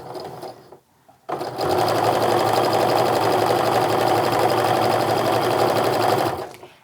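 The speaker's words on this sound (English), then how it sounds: "And then I'm just gonna go ahead and sew down using a 1/4-inch seam as I go down here." Sewing machine stitching a quarter-inch seam on charm pack fabric, starting after a brief pause and running as a steady, loud, fast mechanical whir for about five seconds before stopping.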